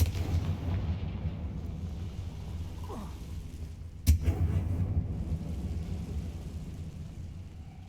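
A single Confringo spell explosion from the video game Hogwarts Legacy cracks sharply midway, followed by a low rumbling tail over a steady, dense background of game ambience.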